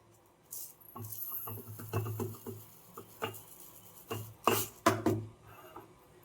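Parboiled rice tipped into lentils in a cooking pot for homemade vegetable khichuri, a series of soft rattling, scraping taps and clinks close by, irregular and fairly quiet, with no talking.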